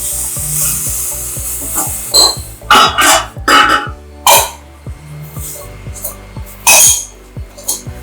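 A metal idli cooker being opened while steaming sweet pooranam kozhukattai, with a series of sharp metallic clinks and clatters from the lid and plates over a low kitchen hum, in uneven bursts.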